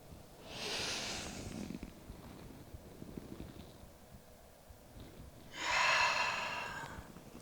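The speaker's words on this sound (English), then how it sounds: "So 3 more of our inhales and 3 exhales." Two deep, slow breaths during a trauma-informed yoga session, a long airy inhale then a strong exhale, close to the microphone over a low hum, with a quieter breathing stretch between.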